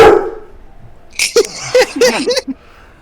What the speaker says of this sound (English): The tavern dog that was outside the room starts barking loudly